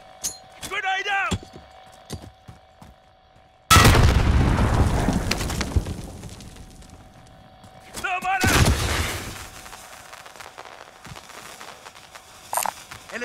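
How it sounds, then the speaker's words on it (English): In the Call of Duty: Modern Warfare video game, a sudden loud grenade blast booms and rumbles away, then a second burst of explosive noise follows, with scattered gunfire and shouted soldier voices around them. "Grenade out!"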